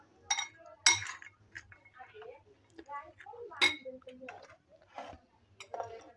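Dishes and cutlery clink sharply as chaat is served onto a plate in a home kitchen: scattered bright taps and rattles, close and fairly loud, with soft voice-like sounds in between.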